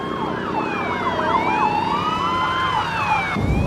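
Wailing ambulance and police sirens sweep up and down at once, steady and fairly close, over a low road rumble and with no talking.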